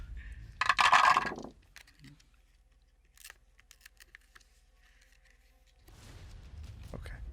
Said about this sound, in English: Takes a handful of dice.